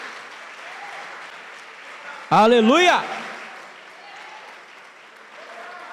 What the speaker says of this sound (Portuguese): dá um lindo aplauso a Jesus